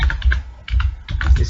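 Close keystrokes on a computer keyboard while C code is typed, coming in quick uneven bursts with short pauses between.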